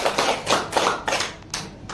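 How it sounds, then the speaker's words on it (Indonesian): Teachers at a senior high school gathering in Indonesia clap their hands together. The sound comes as a series of rhythmic bursts, fairly close and moderately loud, fading briefly between groups of claps, with no speech. "Tepuk tangan dulu."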